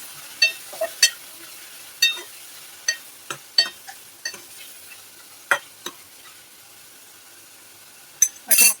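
Chicken liver pieces and garlic fry in a pan, with a soft sizzle under a series of sharp clinks and scrapes as a utensil stirs against the pan, about a dozen taps spread over the stretch.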